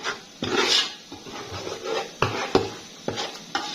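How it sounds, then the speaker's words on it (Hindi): Spices being stirred into beef trotters in a pot, with close scraping and rubbing strokes of a spoon against the pot in an uneven rhythm, plus a few sharp knocks. "अब इन तमाम मसालों को हम अच्छी तरह जो है वो इसमें मिक्स करके 1 से 2 मिनट पकाएंगे।"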